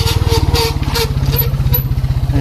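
A motorcycle engine throbs close by with rapid, even pulses as it descends a steep downhill road, holding a steady chugging rhythm from start to finish.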